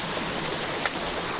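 River water pouring over a small waterfall-like drop in a stream, a steady broadband rush heard close and evenly loud throughout.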